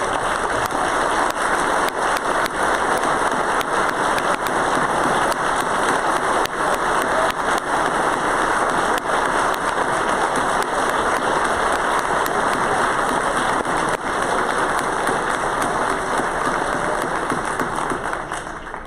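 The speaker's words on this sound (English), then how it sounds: "Please, everybody stand and give him a round of applause." Sustained applause from a large audience standing at a state Republican party annual meeting, dense and steady clapping filling the room for nearly twenty seconds without letup.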